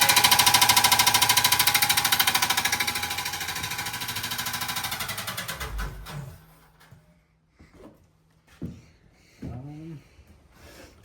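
A bolt head strikes a rotating cage inside a machine as it powers on. Loud, rapid, rhythmic rattling and knocking lasts about five seconds, then winds down into scattered clunks with faint voices.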